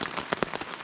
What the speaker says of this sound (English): it started pouring the rain, but I don't know if you guys can hear it